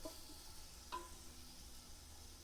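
Faint stirring of quail and rice in a cooking pot, a soft steady sizzle with one brief scrape of the utensil, no voices.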